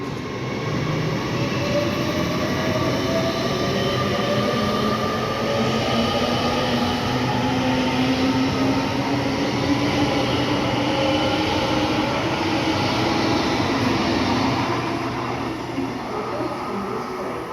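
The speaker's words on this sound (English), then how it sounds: "passing through now is a 807 doing a service from London" A class 807 train passes through Rugby station on the West Coast Main Line: a loud, steady rumble of wheels and traction close by with faint squealing tones, sustained throughout and easing slightly at the end.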